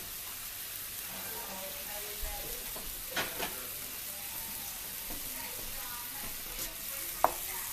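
Half a pack of Italian sausage sautés in a pan for lasagna roll-ups, a quiet steady sizzle with occasional clicks and scrapes, and faint talk in places.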